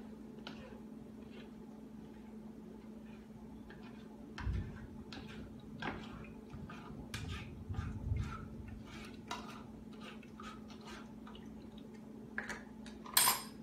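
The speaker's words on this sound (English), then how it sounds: "I'll just stir this up and let the liquid run through" Oat pulp being stirred and oat milk strained through a filter, with scattered faint clinks and taps of utensils against a bowl over a steady low hum, plus a few soft liquid sloshes and a sharper knock near the end.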